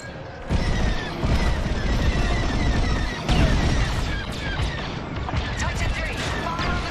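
Starfighters in Star Wars: Squadrons fire blasters at a rebel corvette: dense, rapid volleys of sharp blasts and crackling impacts stack into a loud, continuous barrage with a few heavier bursts.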